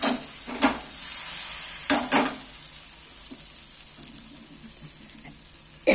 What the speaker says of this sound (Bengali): হাতাটা দিয়ে চালিয়ে দিচ্ছি আমি